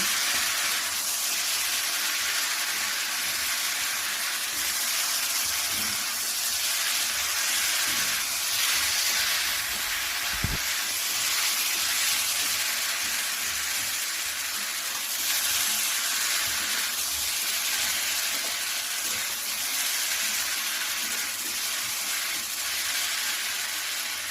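Potatoes frying over low heat in a pan of oil with whole green chillies, a dense, steady sizzling hiss that stays even and close throughout, with one brief knock partway.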